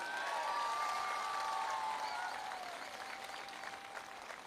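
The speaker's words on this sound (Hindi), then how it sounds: "तालियां कैसी होनी चाहिए?" Audience applause at a motivational speech event in Agra, a steady dense wash of clapping that fades slightly toward the end, with a faint voice and a whistle-like tone over it.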